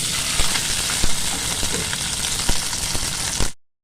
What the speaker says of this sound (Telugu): వేగాక ఇలా తాలింపు దినుసులు, పచ్చిమిర్చి, ఎర్రగడ్డ, కరివేపాకు వేస్తున్నాను.